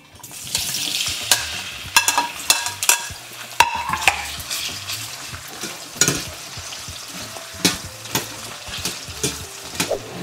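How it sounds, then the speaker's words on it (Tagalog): Carrots and potatoes fry in a pan with a steady oily sizzle, punctuated by repeated sharp scrapes and clacks of a utensil stirring, close and fairly loud throughout. "piprituhin muna natin tong red and green bell pepper, pati yung carrots and potatoes"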